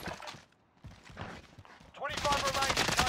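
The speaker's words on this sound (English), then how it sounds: "Trying to shoot me." Rapid gunfire bursts in the Call of Duty Warzone video game, Rebirth map, loud and dense through the latter part, with a player talking over it earlier.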